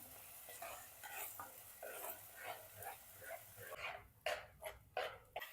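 Tomato paste being sautéed in a pan for dhaba-style paneer masala gives a faint, steady sizzle, with repeated scraping stir strokes that grow sharper and louder toward the end. No one speaks.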